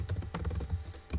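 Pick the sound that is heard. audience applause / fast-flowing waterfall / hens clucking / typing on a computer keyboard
typing on a computer keyboard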